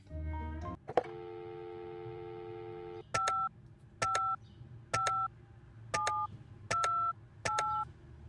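Telephone dialing in the video game Penelope Pendrick: a steady dial tone, then a series of six evenly spaced touch-tone beeps over faint background game ambience.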